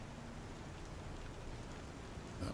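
Steady rain in the video game Star Citizen, a dense even hiss of drops that stays constant and fairly loud throughout, with no voices over it.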